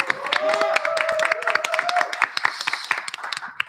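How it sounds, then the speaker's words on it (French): Audience at a short-film show in Caen claps, starting as a blended round of applause under a tonal hum and thinning into scattered individual claps. "On peut applaudir."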